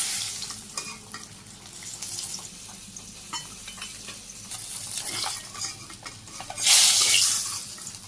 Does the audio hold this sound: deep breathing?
no